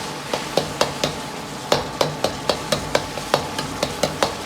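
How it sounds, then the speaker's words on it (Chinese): Diced tomatoes are stirred in hot scallion oil in a wok, a spatula scraping and clacking in a steady rhythm of sharp knocks over a soft, continuous sizzle, close and with no talking. "油热后下入切好的西红柿丁"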